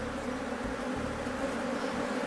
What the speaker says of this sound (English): he suspects it might be inhabited by killer bees.